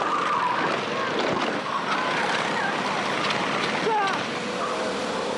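A racing kart at a Barrie Grand Prix karting event loses grip and skids, tyres squealing in short chirps over a steady roar of kart engines and outdoor race noise.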